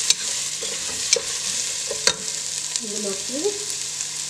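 Onions sizzle in hot oil for dum biryani while a spoon scrapes and stirs them in a few sharp clicks against the pan, close and steady; a voice speaks briefly.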